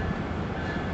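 A Capitol Corridor passenger train departing Martinez station, a steady loud rumble of rolling wagons close by, continuous over the brief moment with no talking.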